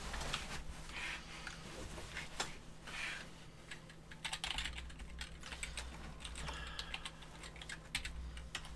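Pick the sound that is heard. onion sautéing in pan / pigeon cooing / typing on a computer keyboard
typing on a computer keyboard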